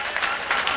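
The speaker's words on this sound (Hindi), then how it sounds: "ताली बजाइए एक बार जोरदार" A brief burst of audience clapping rises from the crowd at a Hindi poetry gathering, dense and mid-distance, with a voice mixed in.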